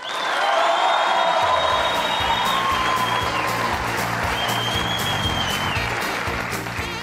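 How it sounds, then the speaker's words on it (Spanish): An audience greets a comedian on stage with loud, sustained applause and some cheering, a dense roar of clapping nearby while a stage voice carries over it. "Quiero que reciban con un fuerte aplauso a Flaco Jaime Agudelo."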